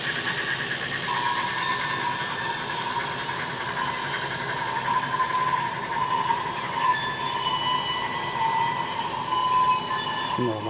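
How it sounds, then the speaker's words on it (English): An empty model railroad ore train runs on a layout at an open house, its steady rolling rumble carrying a sustained high squeal and a whistling tone that shifts slightly over the run. "decided to run this empty ore train up to the mines"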